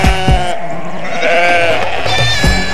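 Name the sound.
goat bleating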